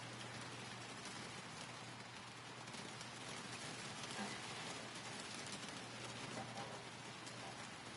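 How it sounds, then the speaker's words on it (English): Steady rain falls in the Gold Mining Simulator video game, an even hiss of drops on surfaces running unbroken at a low, distant level with no talk over it. "Hearing the rain is kind of peaceful"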